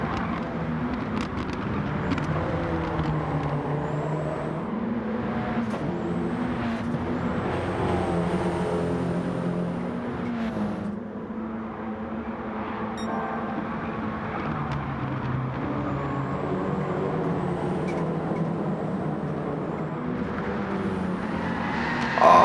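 Several race cars in Gran Turismo 7 (Audi TT Gr4 in an online race) drone steadily as a pack battles for position, with layered engine notes rising and falling throughout, fairly loud and with no talk over it.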